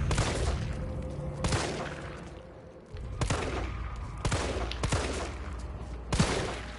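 Heavy gunfire in the Resident Evil 3 (2020) remake demo, several loud, sharp shots landing in a broken rhythm about a second apart, each with a booming tail and low rumbling ambience between them, close and with no voices.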